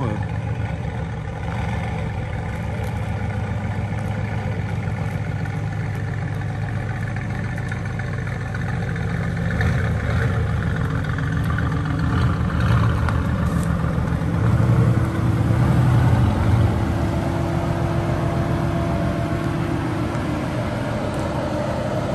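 A car engine with its exhaust valves opened gives a steady, throaty rumble close by, swelling a little louder toward the end.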